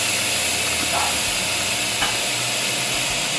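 Steady, loud hiss of steam venting from an Instant Pot pressure cooker on quick release, running unbroken from start to finish with a couple of faint clicks.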